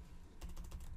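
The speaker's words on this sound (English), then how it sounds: "typing too fast here" Rapid typing on a computer keyboard begins after a short quiet pause, a quick run of close, crisp key clicks with no voices, entering commands in Kali Linux.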